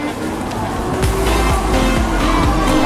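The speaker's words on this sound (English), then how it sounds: "I can hear some Porsche Super Cup cars going on." Porsche Super Cup race car engines roar past in a steady stream at the 2017 British Grand Prix, loud and continuous with repeated passing whines, amid open-air crowd noise.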